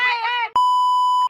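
A phone gives one steady, loud electronic beep close by, right after a brief voice.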